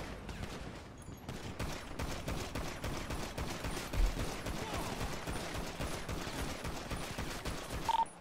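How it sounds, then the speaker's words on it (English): Sustained bursts of automatic gunfire in a GTA roleplay shootout on Route 68, a dense rapid fusillade running nearly continuously with a louder crack midway. "I'm shooting at him"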